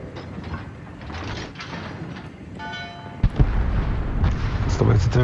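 Warship guns boom in World of Warships aboard the Maine, with deep heavy blasts and rumbling hits toward the end over a dense battle din and mechanical hum, loud and close.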